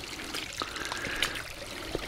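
Shallow creek water trickles and dribbles over small rocky pools, a gentle, continuous babble with scattered small splashes, close by and moderately soft, no voices.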